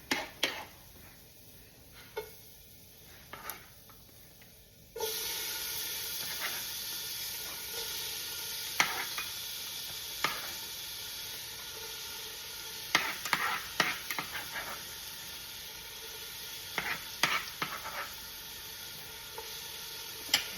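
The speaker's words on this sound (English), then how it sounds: "And you can hear the sizzle of the pan." Chopped garlic and onion hit a hot pan for a ground beef, sweet potato and veggie soup. A steady hissing sizzle bursts in partway through, broken by clinks and scrapes of stirring.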